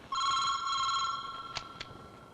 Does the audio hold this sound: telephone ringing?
yes